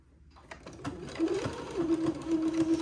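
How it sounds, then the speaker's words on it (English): A domestic sewing machine runs a zigzag stitch through baby-garment fabric, catching a folded seam edge, with a steady rising whir and rhythmic needle ticking that builds in loudness over a few seconds and continues without voices. "And then I will zigzag it to hold it down."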